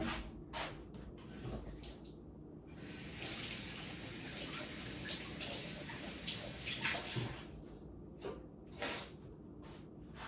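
Water runs steadily from a kitchen tap as hands are washed under it, a continuous splashing hiss with brief pauses and small clatters, fairly close and moderately loud, with no talking.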